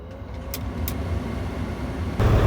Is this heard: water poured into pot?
no